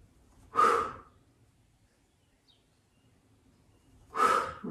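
Two forceful, noisy exhales during a yoga HIIT workout, each a short breathy burst, separated by several seconds of near silence.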